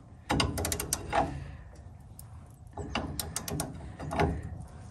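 A small wrench ratchets against a 14 mm bolt on a 1958 VW split-window bus in two bursts of rapid metallic clicking, close by, separated by a short pause.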